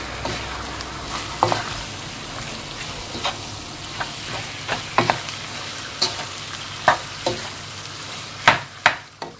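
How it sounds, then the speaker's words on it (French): Chicken pieces with herbs and spices stirred in a pan over a light background sizzle, with irregular scraping and clacking strokes of the utensil that grow sharper and louder toward the end. "Je vais mélanger."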